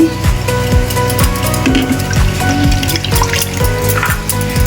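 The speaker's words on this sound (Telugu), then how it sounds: "వాటర్ పోసుకోవాలి ఇవి మునిగి వరకు" Water is poured over moong dal and poha in a bowl to soak them, a steady close rushing splash with faint rhythmic low thuds underneath.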